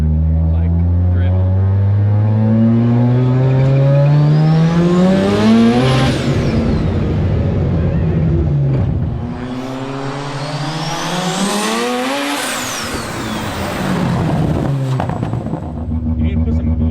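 A drag racing car pulls hard in second gear, its engine note climbing steadily in two long rising sweeps with a brief shift dip between, loud and close from inside the car.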